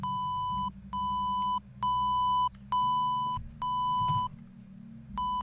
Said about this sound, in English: What the hell is that? What is that beeping sound?